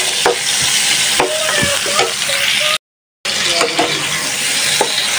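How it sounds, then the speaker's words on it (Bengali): Onion, tomato and spice paste sautéing in a pan for a hilsa fish curry, with a steady loud sizzle and repeated scraping stirs of a spatula against the pan; a brief silent gap breaks the middle. "তো মশলাটা ভালোভাবে কষাই নিছি, সাথে 1টা টমেটো কুচিও দিলাম, সুন্দরভাবে কষাই নিলাম।"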